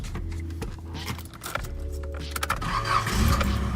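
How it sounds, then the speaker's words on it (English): A JDM project car's engine cranking and catching, with a low idle rumble and some clicks and clatter, then a rising rev toward the end, heard close by. "let me go ahead and start her up"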